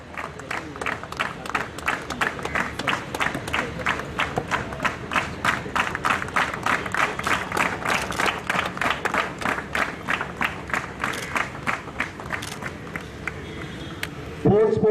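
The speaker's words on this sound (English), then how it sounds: "Please give a big clap" Sustained audience applause at a fire and emergency services annual inspection parade, dense steady clapping from a crowd lasting throughout, fairly even in loudness before a brief change at the very end.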